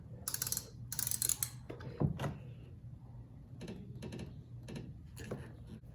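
A socket wrench with a 17mm socket ratchets loose the oil drain plug on a Kawasaki KLR 250 motorcycle, giving close, repeated clicking pawl bursts with brief pauses between strokes and metallic handling noises.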